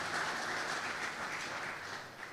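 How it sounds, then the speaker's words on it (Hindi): Sustained applause from a church congregation, a dense even patter of many hands clapping at moderate distance that holds steady before easing off slightly at the end. "जोरदार तालियां इस खूबसूरत फेलोशिप के लिए जो ये लोग करते हैं।"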